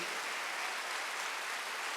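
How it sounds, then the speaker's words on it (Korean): Applause fills a church during a Wednesday worship service. A congregation claps steadily as a dense, even wash of sound with no break over the short stretch. "박수"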